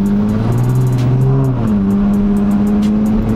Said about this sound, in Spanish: la verdad es que el carro suena muy bien, pero tiene un mofle suelto y suena por acá atrás